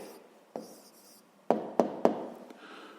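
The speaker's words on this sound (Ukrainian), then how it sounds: "Записуємо відповідь." A pen writes an answer into a school notebook at close range, a few sharp taps and short scratchy strokes with brief quiet gaps between them.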